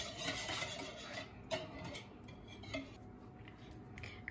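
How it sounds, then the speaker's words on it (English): Cupcake batter with eggs stirred in a bowl, faint soft scraping and a few light clinks of utensil against the bowl, quiet and close. "we're going to give that a stir"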